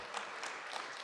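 Audience clapping at a Kansas City entrepreneur meetup, a brief, fairly faint burst of many hands applauding steadily.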